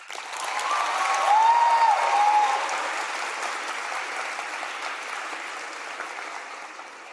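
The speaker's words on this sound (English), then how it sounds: "And now you can clap." Audience applause at a Catholic secondary school awards ceremony, a steady wash of clapping from a hall crowd that swells, peaks early, then slowly thins, with no talking over it.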